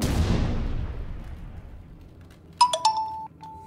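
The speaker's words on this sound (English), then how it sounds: "What is that? Someone's phone. Many messages." Phone notification tones ring in quick succession, several bright chimes stacked close together after a fading low rumble, in the Iron Horse control room of The Division 2.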